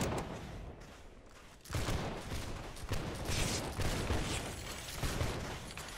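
A musket volley in Holdfast, a sharp burst of massed gunfire crashing in at once, followed by a sustained rolling crackle of scattered shots and mechanical rattling.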